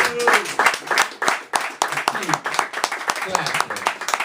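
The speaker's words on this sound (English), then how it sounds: "clap like crazy as we welcome to the mic" An audience claps for a spoken word poet at an open-mic night, with bursts of clapping scattered and uneven under a voice that speaks almost throughout.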